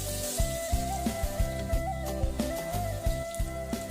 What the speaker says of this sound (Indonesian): Kemudian goreng bawang sampai berwarna kuning kecoklatan.